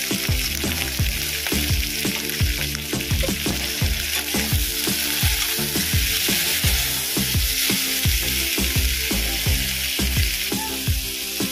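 Chicken pieces sizzle and crackle in a hot pan with a little salt, with repeated scraping and stirring knocks over a steady frying hiss.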